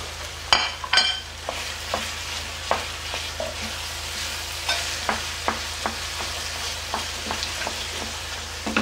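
Onion and pepper fry in a pan with minced kefta, a gentle steady sizzle broken by regular scraping and tapping strokes of a utensil stirring, close and fairly quiet.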